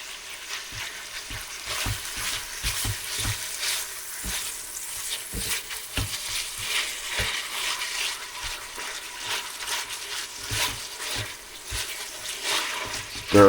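Ground beef and pork frying over medium-high heat in a single pot for spicy chili, a steady close sizzle broken by repeated scraping and clacking stirs throughout.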